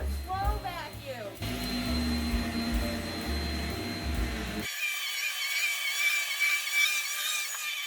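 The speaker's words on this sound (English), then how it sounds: "We got a new little vacuum that just makes life so much easier." A small new household vacuum cleaner runs with a steady, fairly loud whirring hum that holds the whole way through, with some talking over it near the start.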